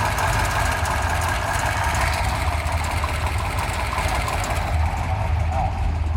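A 409 engine in a Chevrolet Biscayne idles at about 500 RPM close by, with a rough, clattering mechanical texture and a steady low rumble throughout.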